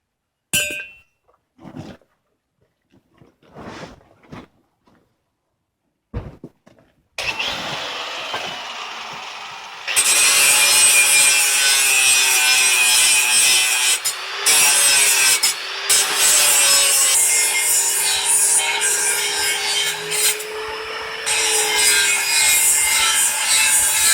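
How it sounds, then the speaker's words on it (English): A few sparse knocks and clicks, then a loud grinder kicks in and grinds the tips off metal trampoline poles continuously with harsh rasping, cutting out briefly now and then. "I'm just going to grind the tips off and hammer it on."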